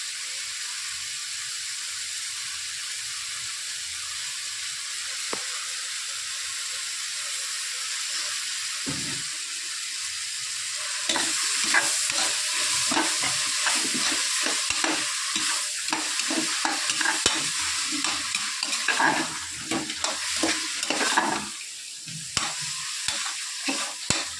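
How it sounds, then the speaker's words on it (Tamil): Ginger garlic paste sautéing in a pan for veg biryani: a quiet sizzle at first, then louder frying and stirring with repeated scraping strokes, close and alone. "இப்போ வந்து இஞ்சி பூண்டு பேஸ்ட்டு பாருங்கள், நல்லா கொரப்பாக தான் அரைச்சி அழகாக அதை போட்டு நல்லா வதக்கிக்கணும்."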